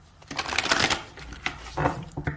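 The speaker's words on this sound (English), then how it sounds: "I'm just going to shuffle the deck." A deck of tarot cards is shuffled by hand, a series of quick riffling bursts and soft flutters close up, with brief pauses between shuffles.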